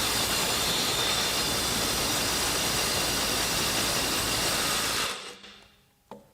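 Milwaukee M12 Stubby impact wrench running on a 6.0 battery at 400 foot-pounds, a loud continuous hammering whir lasting about five seconds before cutting off and winding down, followed by a brief click.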